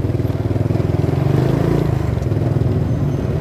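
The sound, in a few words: motorcycles in city traffic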